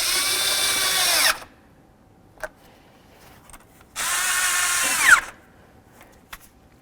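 A power tool fitted with an 8mm socket runs in two loud, steady bursts of about a second each, snugging the valve cover bolts on a 1998–2012 Ford Crown Victoria, with a few small clicks between the bursts.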